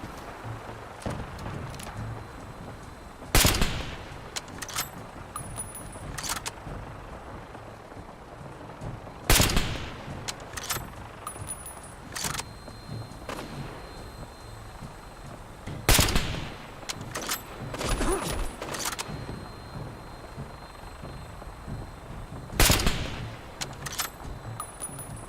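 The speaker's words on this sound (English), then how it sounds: "What, are you gunners? Why are you shooting at me?" Gunners shooting in Fallout 4, with heavy single gunshots ringing out every few seconds amid quieter scattered shots and rattles over a long stretch of ongoing combat.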